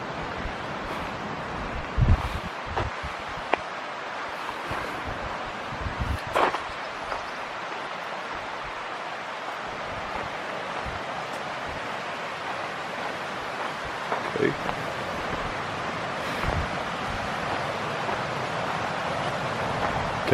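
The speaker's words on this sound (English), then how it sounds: "I can see the water flowing down there." Water flowing in a stream below a hiking trail in Utah, a steady broadband rush heard from a distance with wind and occasional rustling and handling bumps over it.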